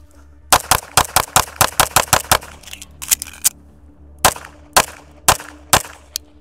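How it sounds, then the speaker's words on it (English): Pistol shots ring out on a range during a tactical drill at 7 yards: a fast string of about ten loud, sharp cracks, a short pause for a reload, then four more spaced shots. "we're gonna do 5 and 5 in the A zones, hit a slide lock reload, and hit 2 in each of the head boxes"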